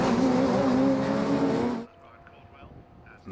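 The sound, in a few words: Radical SR1 race cars racing at Donington Park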